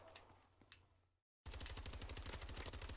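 Rapid automatic gunfire from a Call of Duty: Advanced Warfare match, a loud sustained burst of shots after a few faint earlier pops and a brief silent gap.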